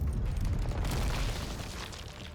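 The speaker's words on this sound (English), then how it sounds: "An explosion rings out in the distance" A distant explosion in the Nikke video game story: a muffled low boom that rolls out and slowly fades into a rumbling tail, fairly quiet overall.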